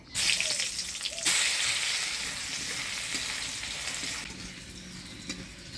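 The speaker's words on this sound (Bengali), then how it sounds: "আগে আমি ফোড়ন দিব শুকনো লঙ্কা, কালো জিরা, থেতো করা রসুন।" Dried chilli, black cumin and crushed garlic frying in hot oil for a spice tempering, a loud, dense, continuous crackling sizzle heard up close that surges twice and then settles into a steady hiss.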